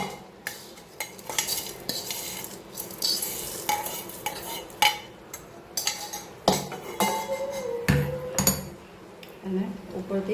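Vadi dumplings tumble into a frying pan for a vadi and potato curry, with repeated stirring clinks of a spoon against the pan over a soft sizzle, close and fairly loud, with some talk in the background.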